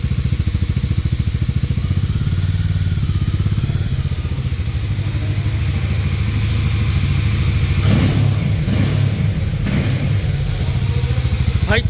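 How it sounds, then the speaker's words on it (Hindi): A Harley-Davidson X440 motorcycle, a 440 cc bike, runs with a loud, steady engine drone throughout, then blips its throttle in two or three sharp revs near the end, close to the listener. "440 सीसी की गाड़ी है बट लाउडनेस देखिए 800 के समान"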